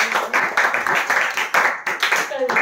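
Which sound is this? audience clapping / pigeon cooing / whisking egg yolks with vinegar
audience clapping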